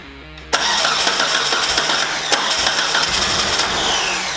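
A 4G64 engine in a Spyder cranks and catches, then settles into a loud, steady idle close by, with no talking.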